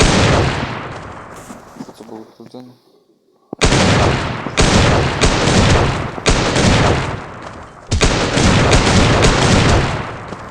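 Bursts of rapid gunfire in the sandbox game Doll Playground crackle loudly, broken by a short quiet gap, then resume in dense volleys with a brief spoken question over them.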